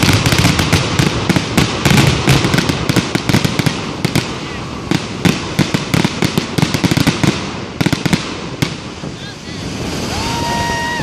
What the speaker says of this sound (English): I'm loving the crackling effects too. They have a lot of diversified fireworks this year.